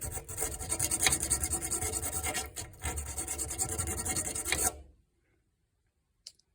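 The tip of a hacksaw blade scrapes rust out of a clogged wall furnace burner in a fast, continuous gritty rasping that stops abruptly, followed by near silence and one faint click.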